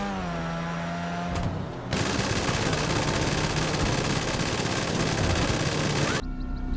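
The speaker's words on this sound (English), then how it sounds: "Now this car is kind of unique. It has a machine gun on it." A car-mounted machine gun in the GTA game fires a long, dense, continuous burst that sounds loud and close. It cuts in after a short idle and stops abruptly, with the engine hum underneath.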